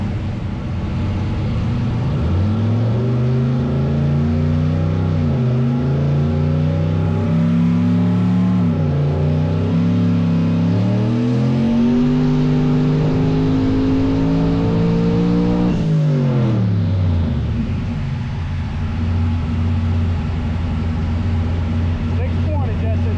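The BlueCheww car's engine revs on a dyno, loud and close, climbing in pitch through several rising pulls with slight popping before dropping back down near the end.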